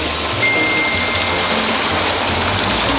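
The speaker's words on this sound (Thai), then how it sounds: "ตัวนี้น้ำไหลเต็มท่อเลยครับ กับปั๊มน้ำ 2 นิ้ว 2 แรงครับ ยี่ห้อวิสครับ" A used 2-inch, 2 hp Wis water pump on 220 volts runs with a steady, loud rushing of water through a full pipe, a constant hiss and gush without pauses.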